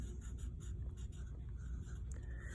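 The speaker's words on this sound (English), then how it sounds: "You need to write your first name" A pencil writes a first name on the name line of a second-grade art journal, faint short scratchy strokes over a low steady background hum.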